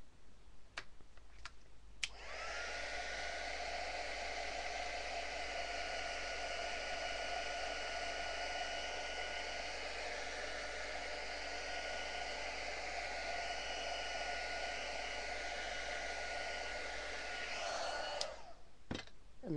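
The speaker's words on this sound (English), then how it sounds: "But then I'm going to just heat set it quickly." A heat tool blows steadily for about sixteen seconds, heat-setting paint on paper, with a few clicks before it starts and a brief handling noise as it stops.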